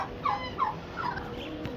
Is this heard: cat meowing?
no